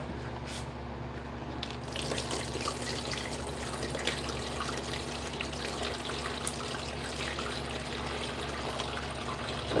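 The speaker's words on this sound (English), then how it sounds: "what I'm gonna do is just pour water in until I see how high this" Water is poured slowly into a plant pot fitted with a water-level indicator, making a continuous trickling, splashing stream that stays steady for about ten seconds, close and fairly quiet.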